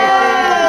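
Audience at an Indonesian film trailer launch cheers and shouts in a steady, close wash of crowd noise with whoops, loud and unbroken for a brief moment.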